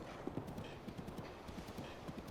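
Heavy hoof clip-clops from a giant horse in Zelda: Breath of the Wild, a steady rhythmic trot of close, mid-loud thuds over a low ambient bed.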